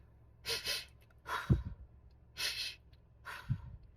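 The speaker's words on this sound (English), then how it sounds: "Let me do my double intake breaths." A person takes paired breaths, two quick sharp inhales through the nose, repeated twice with a pause between each pair, close and fairly soft with light throaty exhales.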